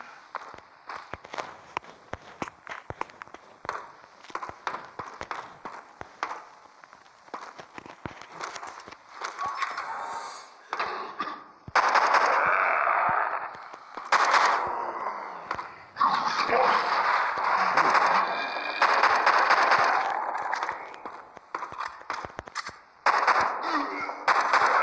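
Gunfire from the zombie video game The Walking Zombie 2, with rapid bursts and single shots cracking over footsteps and game effects, loud and dense throughout.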